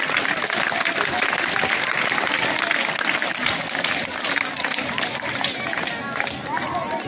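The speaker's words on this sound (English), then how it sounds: "Please give that clap." Students at a school Children's Day event clap together in a loud, continuous crowd applause mixed with babble and chatter throughout.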